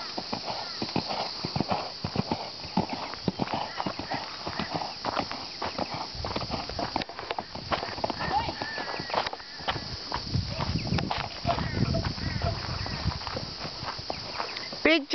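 A horse cantering at home, with rhythmic hoof clip-clop on the ground running throughout and heavier thuds as it is taken over a jump, close and clear with people talking over it.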